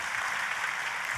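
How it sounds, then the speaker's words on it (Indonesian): A church congregation applauds together during a sermon, a steady wash of clapping that fills the short stretch without pause or talk. "Tepuk tangannya yang paling meriah buat Tuhan kita."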